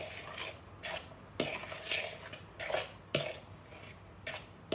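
Mashed potatoes being stirred and mixed with butter in a bowl, with soft repeated scraping and clinking of a utensil against the dish in an irregular rhythm, fairly quiet and close.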